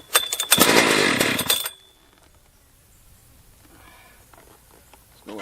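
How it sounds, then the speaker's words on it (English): A large, heavy chainsaw used on a chainsaw mill roars to life for about a second and a half, loud and close, then cuts out and leaves a quiet stretch with faint clinks. "the hardest thing is going to get this, initial start in here with this gigantic, heavy freaking chainsaw"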